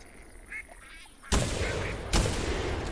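Pintail and mallard ducks in the hunting game Call of the Wild give a few faint quacks, followed by two loud, close gunshots about a second apart that leave a ringing tail.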